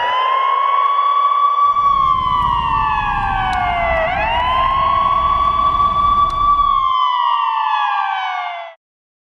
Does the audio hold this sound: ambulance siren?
yes